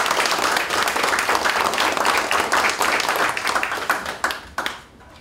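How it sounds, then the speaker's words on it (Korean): Dense crowd applause at a Democratic Party field meeting of the supreme council in Busan, loud and sustained, thinning out into a few scattered claps at the end. "밖에서는 더 큰 박수 소리가 들리고 있습니다."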